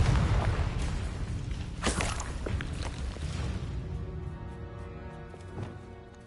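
A Confringo blasting spell bursts in Hogwarts Legacy with a loud, booming impact and sharp whoosh, followed by a decaying rumble and scattered fainter crackles as the blast fades.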